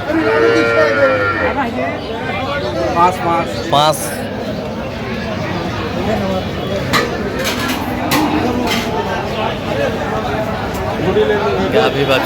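Cows, including Nepali-breed cows with calves, moo loudly and repeatedly amid a busy crowd, with people talking and calling in the background of an outdoor cattle market.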